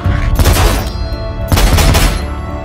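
Gunfire from a police shooting scene in a French action crime film: two loud bursts of rapid shots about a second apart, cracking and booming under a steady background score.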